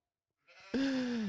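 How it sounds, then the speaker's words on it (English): Sheep bleats once, close and loud: a short breathy onset rising into one sustained, wavering baa that holds for about half a second and cuts off, with no talk around it. "What did the sheep say?"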